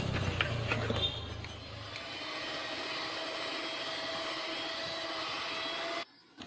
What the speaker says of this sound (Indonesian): Kita mixer menggunakan kecepatan terendah terlebih dahulu.